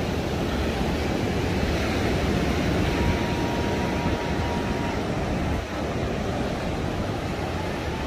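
Ocean surf rolling onto the beach at El Tunco, El Salvador, a steady broadband roar of waves mixed with wind buffeting the microphone, continuous for about eight seconds with no distinct breaks.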